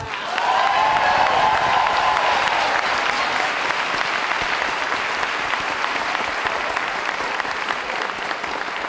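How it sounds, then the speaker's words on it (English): A convocation audience applauds the choir directors and musicians in a dense, sustained wash of clapping that stays steady throughout, loud and filling the room. "So I'd like to give our choir directors and our musicians a big round of applause."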